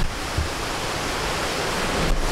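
Waterfall in the Azores, a loud continuous broadband roar of falling water, steady and close with no pauses.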